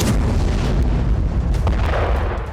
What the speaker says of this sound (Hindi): रिहायशी इलाकों पर बमबारी की जा रही है।